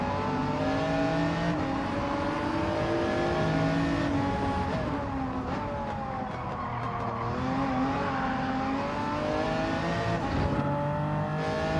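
A race car engine in Gran Turismo 7 drones loudly and continuously, its pitch rising and falling through gear changes and corners, with faint tire squeal in the background.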